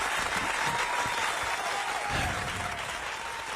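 Applause fills a radio talk show studio: a dense, steady wash of crowd clapping that stays loud and even from start to finish, with a faint held tone running underneath.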